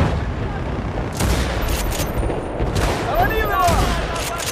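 Video game battle at an objective: dense bursts of gunfire crackle and boom fairly close, with shouted voices mixed in.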